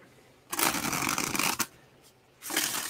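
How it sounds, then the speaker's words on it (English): Tarot cards being shuffled in bursts of crisp riffling and flicking, one long run, a short pause with faint taps, then another burst starting, close and fairly loud with no talk. "I shuffle way too much."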